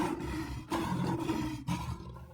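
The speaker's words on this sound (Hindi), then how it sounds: "आवाज से तो लगता है कि कोई शेर मेरी ही ओर बढ़ता चला आ रहा है।" A lion's deep roar rumbles close and loud in a jungle setting, in repeated surging bursts over about two seconds with brief gaps between them.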